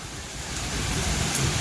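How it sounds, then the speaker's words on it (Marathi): Heavy rain and strong wind in Baramati, a steady broadband roar of downpour and gusts, close and loud throughout without any voices. "वारं पण सुटले आणि पाऊस पण आलाय"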